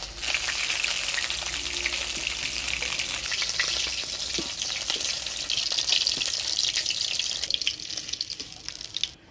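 Fish frying in a pan of oil for a Bengali village-style fish curry, a dense steady sizzle with a running water or sink-like hiss lasting throughout, fairly close and loud with no voices.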